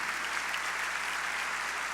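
A church congregation applauds loudly during a worship congress service, a thick continuous roar of clapping hands with no let-up and no voices standing out.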